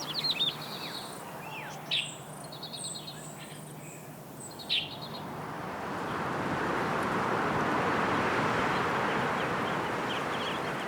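Migratory birds call in a coastal protection forest, several short chirps and whistles rising above a steady hiss of insects and distant wind that swells louder in the second half.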